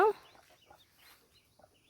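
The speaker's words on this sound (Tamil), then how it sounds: "கோழி குஞ்சு அடியில் இருக்குது" A small chicken chick peeps and clucks from beneath a garden plant, one sharp call at the start followed by several faint, scattered chirps close by at a low level.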